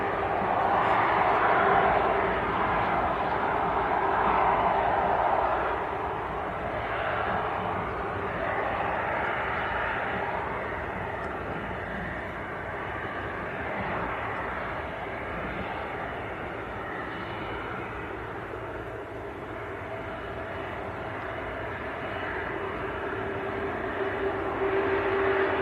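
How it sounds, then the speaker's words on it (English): An Airbus A330 bound for New York JFK rolls for takeoff from Manchester Airport, a steady broad jet roar that holds for the whole stretch, loudest at the start and easing slightly before swelling again near the end. "the A330 lining up full length, going to New York's JFK"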